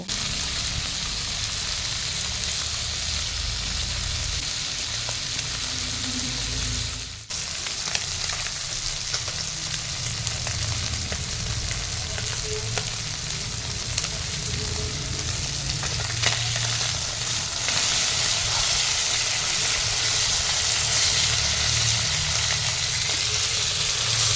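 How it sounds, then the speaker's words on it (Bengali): Pieces of fish sizzle lightly in oil in a pan and are stirred with a spatula. The frying crackles steadily and close, with occasional scraping and shifting sounds, and nobody speaks. "খন্তির সাহায্যে মাছগুলোকে নাড়াচাড়া করে নিয়েছি এবার হালকা করে ভেজে নিব"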